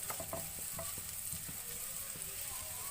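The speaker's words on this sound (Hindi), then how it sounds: "हम फ्राई करेंगे लहसुन अदरक पेस्ट को" Garlic ginger paste frying in a pan with lightly browned onions for a paneer tikka masala, a soft, even sizzle with scattered scraping stirs, fairly quiet and with no voices.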